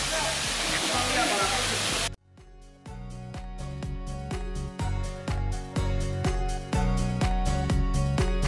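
A waterfall near Arecibo, Puerto Rico, roars as a dense, loud wash of rushing water for about two seconds before cutting abruptly to rhythmic music.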